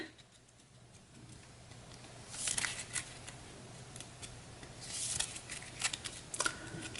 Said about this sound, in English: I'm going to give this a quick shuffle